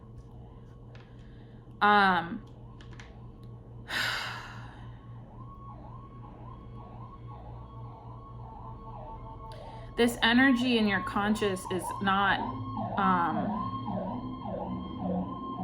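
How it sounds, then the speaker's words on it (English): Wailing emergency sirens rise and fall repeatedly in the distance, swelling louder partway through, while a person talks over them. "there's so many sirens right now"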